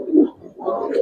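Giribaz pigeons in a loft give two soft, close coos in quick succession, low and throaty with a brief dip between.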